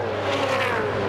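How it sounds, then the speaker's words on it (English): V8 Supercars racing down the back straight at the Shanghai International circuit in 2005, a dense roar of several engines blending into one sustained drone, brief and loud. "They're on the run down the back straight now for the first time, so look for moves in the braking area down to turn 12."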